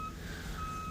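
A truck, just powered up with jumper cables, emits a steady thin electronic beep, faint and continuous over low background rumble.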